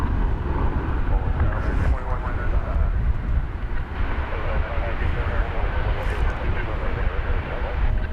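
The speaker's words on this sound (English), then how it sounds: "And taking off there, American Flight 2392 to San Luis Obispo in California." An American Airlines jet taking off at DFW Airport, a steady broadband engine roar with wind noise that holds loud and continuous throughout, with a voice talking over it.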